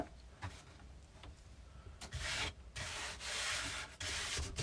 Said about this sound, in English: Scrape this up.